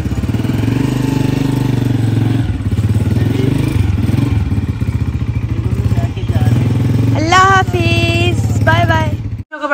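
A motorcycle engine runs steadily with a throbbing, rattling tone, rising and falling with the throttle; near the end someone speaks over it.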